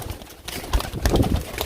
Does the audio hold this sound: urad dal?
no